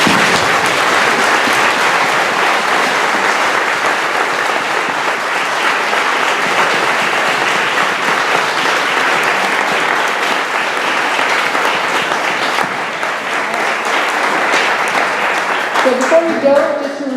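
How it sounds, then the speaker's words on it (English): An audience at a 2014 River Ward candidates debate in Ottawa gives a long, steady round of applause. The dense, even clapping fills the room for the whole stretch, with a few scattered voices in the crowd. "Let's give them a round of applause."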